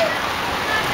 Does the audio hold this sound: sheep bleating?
no